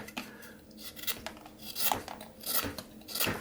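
A knife shaving wood while whittling a wizard plant stake: a series of short, close scraping strokes in an uneven rhythm, some sharper and louder than others.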